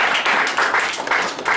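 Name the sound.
congregation applauding in church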